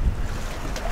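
Wind and waves buffet a sailboat at sea off Greece, a steady close rush of gusting wind over the microphone with low sloshing water beneath, filling the moment without any voices.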